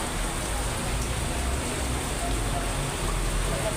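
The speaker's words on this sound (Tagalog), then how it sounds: "Malakas yung ulan." Steady, dense hiss of heavy rain pouring down in Manila, a constant broadband wash with no breaks, close and fairly loud.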